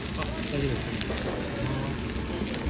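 Bibimbap fried rice sizzles in a hot stone pot at a grilled-meat restaurant, a steady close crackling hiss, with faint voices in the background.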